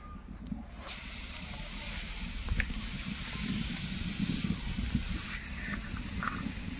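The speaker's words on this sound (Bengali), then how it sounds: "কড়াই গরম, প্রথমে দেবো কোয়া করা নারকেল" Grated coconut hitting a hot wok for bhapa pitha, a steady hiss and sizzle with a few scraping clicks and a short knock near the start.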